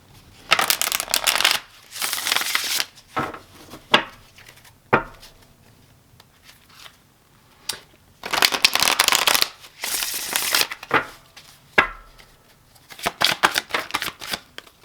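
A deck of tarot cards being shuffled close up, repeated riffling bursts with quiet gaps and soft taps between them, no talking.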